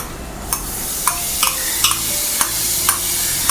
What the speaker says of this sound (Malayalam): നമ്മളൊരു ടേബിൾ സ്പൂൺ ഇഞ്ചി വെളുത്തുള്ളി ചതച്ചത് ഇതിലോട്ട് ഇട്ട് കൊടുക്കുകയാണ് ഈ സവാള വഴറ്റിയതിലേക്ക്